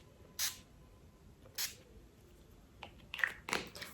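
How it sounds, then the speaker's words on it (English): NYX makeup setting spray hisses onto a hand in a few short, soft bursts, two spaced pumps followed by a quicker cluster near the end, faint against a quiet room. "Now I'm just going to take the NYX setting spray and spray it only on my left hand."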